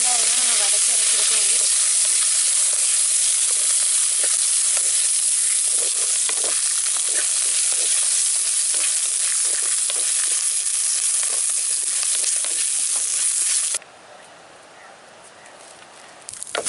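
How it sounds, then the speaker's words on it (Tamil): Tamarind, grated coconut and curry leaves being sautéed in a pan with dried red chillies and urad dal, producing a loud, steady sizzle with crackling stirring scrapes that cuts to quieter background near the end; a voice speaks over part of it. "இப்போ வந்து புளி, தேங்காய், கருவேப்பிலையும் சேர்த்து நல்லா வதக்கிக்கலாம்"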